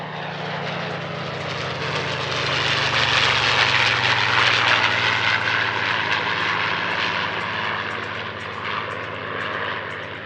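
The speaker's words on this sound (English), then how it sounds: "a formation sequence led by Stephen Stead in P-51D Little Rebel" P-51D Mustang propeller fighters, led by Little Rebel, fly in formation at an airshow in Belgium, producing a loud, continuous piston-engine drone that swells and eases as they pass overhead.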